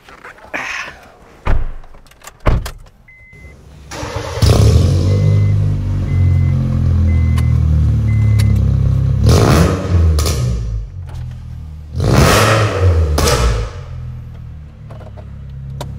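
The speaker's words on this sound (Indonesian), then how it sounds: "Sekarang kita nyalakan mesinnya, kita dengarkan suaranya" A Honda Jazz engine starts with a few sharp thumps, then settles into a loud, steady idle broken by two or three rising revs, close by with no talk.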